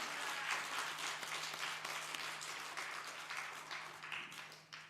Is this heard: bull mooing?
no